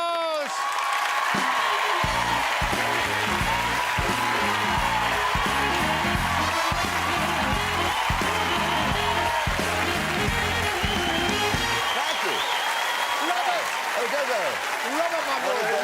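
A studio audience applauds and cheers loudly for a host's entrance on a TV variety show, steady dense clapping with whoops, while someone talks over it partway through before the applause fades.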